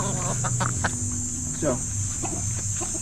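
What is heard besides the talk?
Boston Gold chickens clucking, hungry for feed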